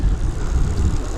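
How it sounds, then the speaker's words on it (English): A propeller airplane passes overhead near coastal marshes by the Oak Island lighthouse, its steady low engine drone loud and continuous throughout. "Aeroplane. Aeroplanes."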